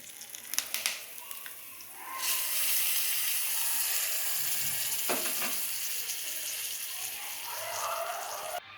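A few light clinks, then hot oil tempering of mustard seeds, curry leaves and asafoetida hits coconut chana dal chutney with a sudden loud sizzle that crackles steadily and slowly eases, close by with no talking.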